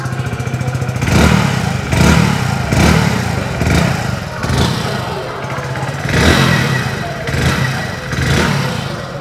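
A Hero HF Deluxe 100cc motorcycle, the 2024 all-black model, idles nearby with a steady low thrum, with several swells of revving and easing back and a loud, continuous mechanical clatter throughout.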